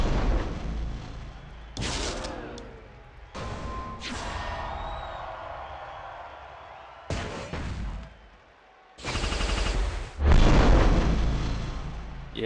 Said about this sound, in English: You can see we basically blew the whole board there, and we did 400k on that swipe.